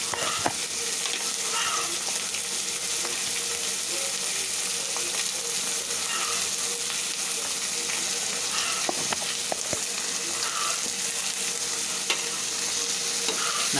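Onions sauté in a pan with salt and turmeric, a steady, close sizzle and crackle running the whole time, with occasional scrapes and knocks of stirring and no voices.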